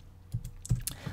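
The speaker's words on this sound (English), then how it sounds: "And then we're going to type an equal sign and set this to block." Fingers type on a computer keyboard, a handful of close, crisp key clicks arriving in an uneven quick rhythm, quiet between strokes and with no speech.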